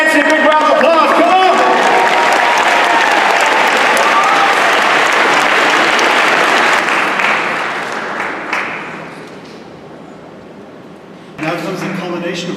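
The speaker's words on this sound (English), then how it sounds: "Everybody give Nancy a big round of applause." Audience applause at a writers and illustrators award ceremony, dense sustained clapping from a large crowd that thins and fades out, then a fresh burst of clapping starts near the end.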